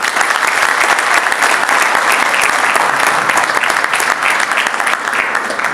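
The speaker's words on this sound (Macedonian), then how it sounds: "Аплауз за родителите." A hall audience at a university graduation ceremony applauds the parents: a dense, even wash of many hands clapping, sustained and fairly loud for several seconds without any voices.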